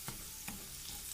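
Garlic sizzling in the oil left from frying tofu, a steady soft crackle with two brief scraping stirs of a utensil, close and fairly quiet, no voices.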